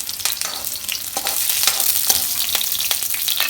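Green chilies fry in hot mustard oil with a busy crackling sizzle and repeated sharp pops, close and steady throughout.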